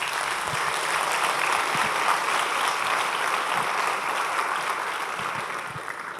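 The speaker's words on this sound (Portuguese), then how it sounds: "Vamos dar uma salva de palmas para o Senhor." A church congregation at a New Year's Eve service applauds loudly and steadily, many hands blending into a dense, continuous roar that holds level before tapering slightly at the end.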